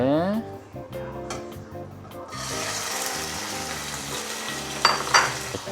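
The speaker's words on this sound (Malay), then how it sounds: "Okey, minyak dah panas. Kita letak daging kita." Beef drops into hot oil for a Sukiya bowl and sizzles steadily at close range, with a few louder spits near the end and a voice talking over the frying.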